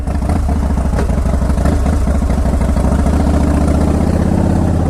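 A Harley-Davidson Fat Boy engine idles loud and close, a steady deep rhythmic potato-potato thump with even low pulses and no voices.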